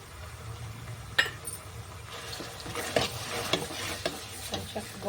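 Onions frying with ginger-garlic paste and turmeric for goat head curry, a steady close sizzle broken by repeated scraping stirs and a few light clinks of a utensil against the pan.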